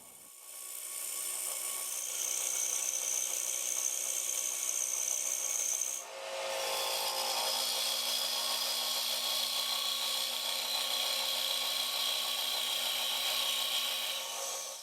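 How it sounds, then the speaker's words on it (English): An Easy Rougher woodturning tool cuts and defines the rim of a wooden bowl spinning on a lathe, giving a steady, loud rasping scrape that breaks briefly near the middle before resuming continuously. "We continue using the Easy Rougher while we define the rim of the bowl."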